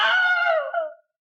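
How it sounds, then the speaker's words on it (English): The Wilhelm scream from the 1951 film Distant Drums, a soldier attacked by an alligator: a single loud, sharp male cry of about one second that wavers and cuts off abruptly, alone with nothing behind it. "And now we're going to see the first Wilhelm scream ever."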